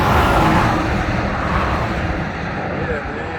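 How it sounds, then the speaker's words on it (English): Steady, loud roar of freeway traffic heading into Las Vegas, with a dense broadband rush of passing vehicles and wind that fades slightly toward the end. "we actually got a freeway that comes into Vegas to the right of us. So you're gonna hear a lot of traffic."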